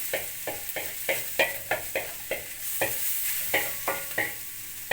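Lamb tail fat melts in a saç pan with a steady sizzle, broken by regular scraping stirs that land as sharp strokes roughly twice a second, near and fairly loud, with no talking.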